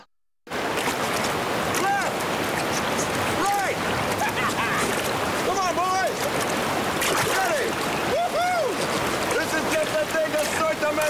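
Whitewater rafting scene with steady loud rushing water filling the whole stretch, voices shouting and calling out over it at intervals.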